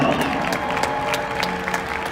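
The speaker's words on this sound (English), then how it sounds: "Let's bring them in with a nice round of applause right now, friends." A rodeo crowd in Denver, Colorado applauds as riders are brought into the arena, a short burst of clapping and cheering over a tonal background hum.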